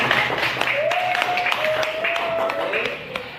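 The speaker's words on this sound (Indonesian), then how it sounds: "Jadi tepuk tangan dulu untuk Farhan." A classroom of students claps for a classmate named Farhan: a brief burst of scattered hand claps under a talking voice, fading out after a few seconds.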